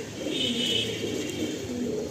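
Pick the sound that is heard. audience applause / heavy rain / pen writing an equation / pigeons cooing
pigeons cooing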